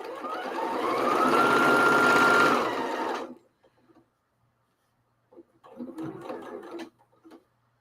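A sewing machine runs in one long rising burst as it stitches a folded seam on a grocery bag, stops, then whirs again in a shorter, rougher run with a few stalls.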